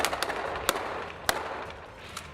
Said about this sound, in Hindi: पुलिस और सेना के जवानों ने द्वीप पर बने आतंकी ठिकानों को घेर लिया और उन पर निशाना लगाकर गोलियां दागते